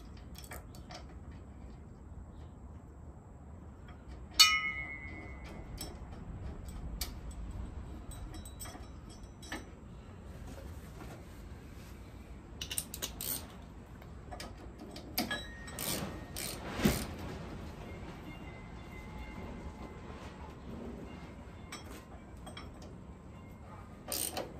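Ratchet clicking while chasing threads on a rear exhaust bracket for a Harley Shovelhead in a home garage, scattered bursts of metallic ticks and clanks with quiet gaps, near and moderately loud.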